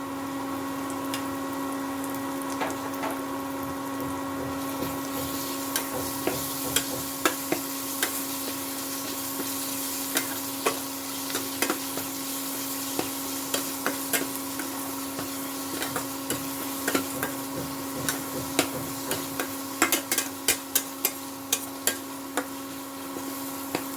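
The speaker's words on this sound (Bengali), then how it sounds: "2-3 মিনিট কষিয়ে নেব।" Potatoes with a spoonful of coconut paste sauté in a pan for a posto dish, giving a steady low frying hiss with scattered soft clicks and scrapes of stirring that grow more frequent toward the end.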